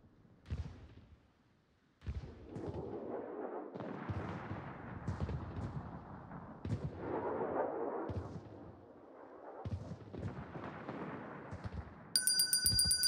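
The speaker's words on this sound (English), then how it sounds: "stop ringing the bell" A bell rings loudly near the end of a video game sequence, cutting in after a long stretch of repeated booming gunfire and explosions.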